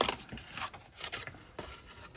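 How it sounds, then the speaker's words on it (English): Scissors snipping through 6x6 paper along a score line, a few short close crisp cuts in uneven rhythm, fairly quiet with no talk. "I think I'm just going to use my scissors for that"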